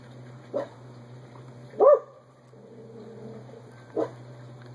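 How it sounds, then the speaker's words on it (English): A dog barking at a deer in the yard, three separate barks spaced a couple of seconds apart, the middle one loudest, heard from a distance over a low steady hum indoors. "Dog's barking at a deer or something in the yard."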